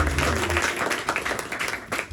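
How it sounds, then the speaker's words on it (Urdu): A church congregation claps for the women, a dense, steady burst of applause from many hands filling the room, with some voices faintly mixed in. "میں چاہتا ہوں ایسی خواتین کے لیے تالیاں بجائیں گے"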